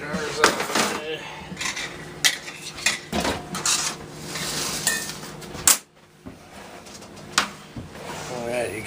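Glass jars and kitchen items clank and knock as they are shifted around a kitchen counter while cooking red meat sauce, a series of close, irregular clatters and bumps with a person talking in between.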